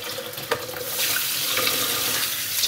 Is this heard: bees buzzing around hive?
no